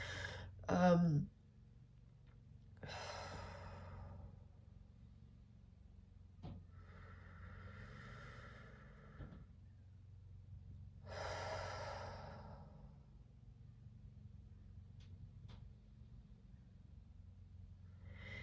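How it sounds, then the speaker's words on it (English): Slow, deep breaths drawn and released through the mouth, several long airy inhales and exhales spaced a few seconds apart, close and soft over a quiet background. "taking some deep breaths for obvious reasons. I'm breathing through the mouth."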